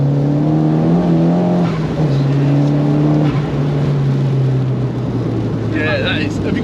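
A Renault Clio 172 fitted with a swapped 340 bhp Audi 1.8T engine runs close by with a steady, throaty idle that lifts and settles slightly, holding continuously throughout.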